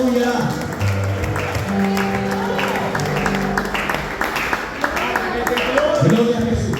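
A church congregation applauds with sustained crowd clapping under a loud, amplified preacher's voice and sung tones that carry throughout.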